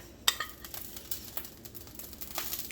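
Venison patties are pushed into a hot pan for Salisbury steak, giving a faint, steady sizzle broken by light scraping and stirring taps, with one sharper clink near the start.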